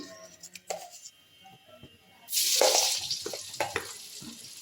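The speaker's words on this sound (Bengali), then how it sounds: "আমি কড়াইতে একটু তেল দিয়ে নিয়েছি, আর তার মধ্যে দিয়ে দিচ্ছি অল্প একটু নুন" Oil heating in a kadai with a pinch of salt dropped in, a few soft taps and clinks, then a sudden loud sizzle that keeps crackling over the last seconds with light stirring knocks.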